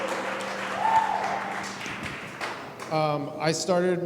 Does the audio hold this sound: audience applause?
yes